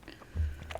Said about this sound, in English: He's chewing on his phone.